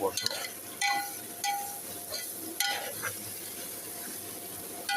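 Fish curry sizzles quietly in a pan while a spatula stirs it, scraping and clinking against the metal a few times.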